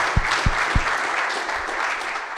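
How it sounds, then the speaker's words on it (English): Audience applause for a business acquisition panel at a live event, a dense steady roar of clapping throughout, with a few low thumps near the start. "let's give a round of applause to everybody."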